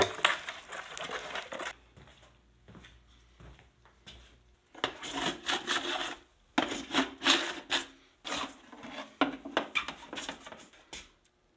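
Plastic scraper rasping wax off a small snowboard base in repeated strokes, close and fairly loud, with short pauses between passes and no talking.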